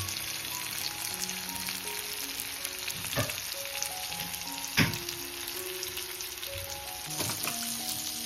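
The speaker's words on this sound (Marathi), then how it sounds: "इकडे तुम्ही बघू शकता आपली मच्छी कशी फ्राय होते बघा" Fish fries in a pan over a wood-fired stove, giving a steady, close sizzle with a few sharp clicks and scrapes; no one talks.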